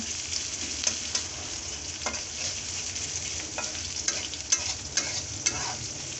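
Chopped onions fry in hot oil in a pan for a chickpea dish, a continuous close sizzle broken by several scraping stirs of a spoon against the pan.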